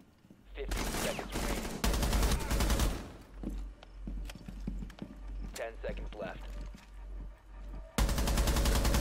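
Bursts of rapid automatic gunfire in Rainbow Six Siege, loud sustained volleys broken by scattered single shots, with someone talking over the action.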